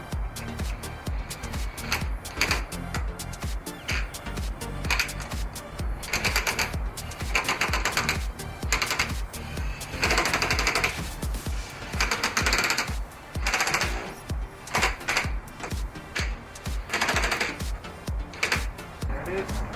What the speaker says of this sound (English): you can just bolt it right on